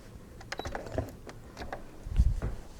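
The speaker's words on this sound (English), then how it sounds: "And we're just going to start sewing." A sewing machine stitches binding onto a quilt in short, fairly faint bursts of mechanical whirring and clicking, with a heavier thump near the end.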